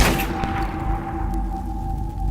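A gunshot goes off at the start of a horror story set around a chicken farm in the early morning, a sharp loud crack with a rumbling boom that decays over about two seconds.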